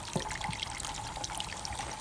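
Water pours and trickles steadily, faint, with a few splashes, while a rusty gas tank is rinsed during an acid cleaning job.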